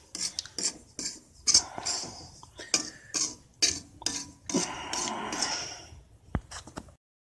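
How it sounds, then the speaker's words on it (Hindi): Semolina roasting in a kadhai for halwa, stirred without pause, producing rapid metallic scrapes and clinks of a spoon against the pan in irregular bursts, close up, while someone talks. "इसको भूनते समय आँच बिल्कुल हल्का रखें और लगातार चलाते रहें"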